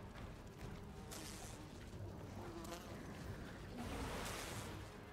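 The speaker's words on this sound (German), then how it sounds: "Jetzt kommen noch blaue Bienen." A buzzing swarm of blue bees in Enshrouded, a steady insect drone that swells and fades over background game sound.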